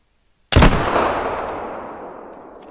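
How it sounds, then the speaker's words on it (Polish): A single loud rifle shot in theHunter: Call of the Wild cracks sharply after a moment of silence, followed by a long rolling echo that slowly fades. "będziemy zaraz oddawać strzał"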